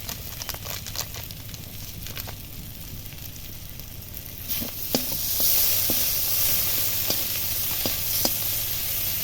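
A spice paste of chili powder, turmeric and cumin powder loosened with a little water frying in a pan for a Bengali jackfruit-seed dhoka curry, with steady sizzling, occasional stirring clicks, and a louder hiss in the second half.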